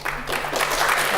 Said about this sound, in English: I love the spontaneous round of applause.